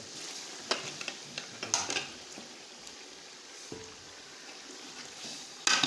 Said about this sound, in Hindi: अभी हमने गोश्त को अच्छे तरीके से फ्राई करना है, इसकी पकाई करनी है।